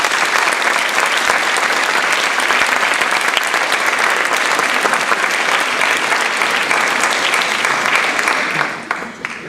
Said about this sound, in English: Please join me in a round of applause to show our appreciation for all those who have honored us with their presence and support of this evening.